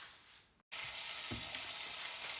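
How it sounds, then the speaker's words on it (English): Chicken sizzles and fries in a Pro Cook frying pan, a steady loud hiss that starts abruptly after a brief cut and continues without talk. "So I'll just cook my chicken off first."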